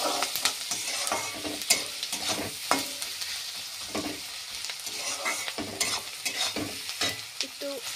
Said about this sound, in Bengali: এবার সব কিছু ভালো করে ভাজা হবে